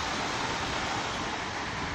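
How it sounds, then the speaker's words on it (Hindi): Water rushes out through the gate of a gravity dam more than 80 years old, a loud, dense, continuous roar with no break and no voices. "पानी निकल रहा है वहाँ।"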